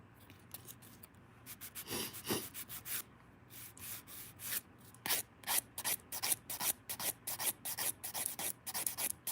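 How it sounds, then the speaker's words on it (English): Hand file's 180 grit side rasping across a nail during a dip powder manicure, giving quick repeated back-and-forth strokes, close and fairly loud, with short pauses and an uneven rhythm, no talking. "Just using the 180 grit side of this file."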